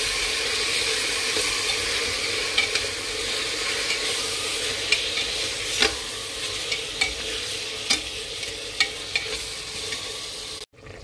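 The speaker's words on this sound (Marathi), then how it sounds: "ते फिरून घ्यायचं चांगलं हलवून" Ground coriander rice mixture stirred and fried in a pan, a continuous sizzle with repeated sharp spoon clicks and scrapes at irregular intervals, close up, with no speech.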